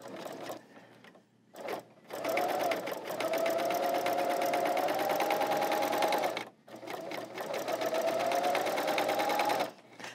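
Decorative stitching on an L890 serger runs in two long bursts, the motor whirring and needles chattering rapidly up close, with short pauses between runs.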